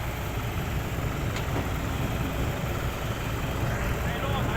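A New Holland TT4575 tractor stuck in mud runs with a steady, loud diesel rumble and broad engine noise, as someone speaks over it.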